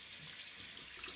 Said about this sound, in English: put it on some warm water